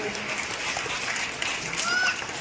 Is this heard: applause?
yes